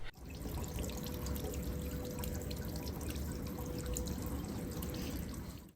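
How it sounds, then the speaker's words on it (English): Steady, full rushing of falling water heard from behind a waterfall in a Minnesota winter, close and continuous, with a broad roar and scattered splashy detail throughout. "How does it feel to be behind a waterfall?"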